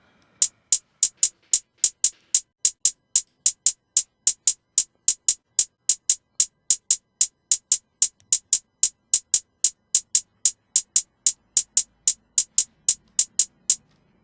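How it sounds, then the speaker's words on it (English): A crisp, bright drill-beat hi-hat ticks in a fast, even rhythm, dozens of sharp short hits repeating steadily with nothing else underneath. "That like basic hi-hat, that like basic drill hi-hat"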